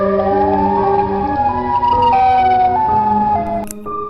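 Wailing siren from a Siren Head horror cartoon, a loud continuous electronic tone stepping between pitches with layered harmonics, filling the scene without speech.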